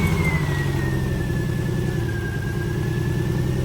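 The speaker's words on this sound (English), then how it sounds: "We're gonna hook up the battery and start the car and see how it runs." A car from a cheap daily-driver build, freshly reassembled with its check-engine light earlier flashing, runs with a loud, rough, uneven engine drone and a thin whine gliding slightly downward, close by with no voices.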